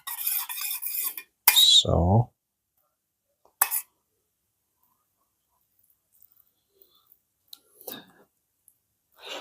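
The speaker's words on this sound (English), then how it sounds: "I'm spreading the sauce." A spoon scraping and clinking against a dish while homemade sauce is spread over pizza, a few short bursts of clatter separated by quiet, with faint taps later.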